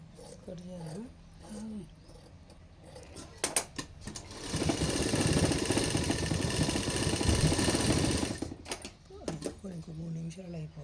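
A sewing machine stitches a small round child's cap, running as a steady, loud mechanical whir for several seconds, with quieter handling noise and shuffling before and after.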